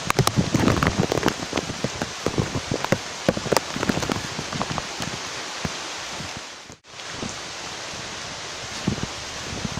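Steady rain pours across a wide area in heavy, dense patter with a constant hiss and many close drops striking surfaces, continuing loud throughout with a brief dip near the middle.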